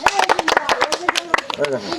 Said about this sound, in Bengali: হাততালি হাততালি দাও। হাততালি হাততালি।